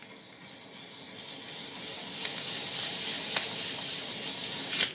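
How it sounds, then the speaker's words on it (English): Steady, close hiss of 1000 grit sandpaper rubbing a French-polished guitar neck, strokes running continuously with a few sharper scratches, no talk. "So I'm going to begin just by hitting it with some 1000 grit sandpaper"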